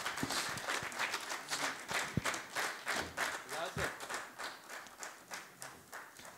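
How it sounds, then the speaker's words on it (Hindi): Audience at a mushaira poetry gathering applauding to welcome a poet, clapping that swells and falls in waves at moderate distance, with some voices mixed in. "ज़ोरदार तालियों के साथ इस्तकबाल कीजिए मदन मोहन दानी साहब।"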